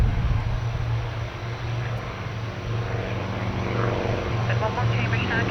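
An RNLAF C-130H-30 Hercules turboprop performs an overshoot and landing at Cambridge Airport, its engines giving a continuous loud propeller drone and hum throughout, with tower radio chatter mixed in.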